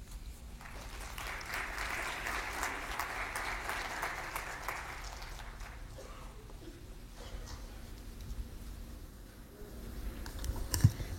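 An audience at a French-language conference breaks into sustained applause, steady clapping that gradually thins out toward the end.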